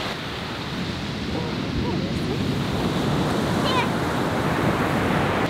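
Steady roar of surf washing onto an Oregon beach, with wind buffeting the microphone throughout and a faint distant voice.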